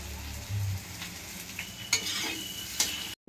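Liver fry sizzles steadily in hot oil as a utensil stirs it in the pan, with a few sharper scrapes and clinks over the close, continuous frying hiss.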